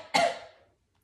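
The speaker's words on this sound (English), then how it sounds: "and cough." A single short, sharp cough during a yoga lesson on the bandhas, close and fairly loud, fading quickly into silence.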